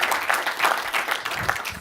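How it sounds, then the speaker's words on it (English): An audience at a CEO Forum welcome gives a quick round of applause: brief, dense clapping throughout, moderately loud and continuous. "So please join me in a quick round of applause and appreciation."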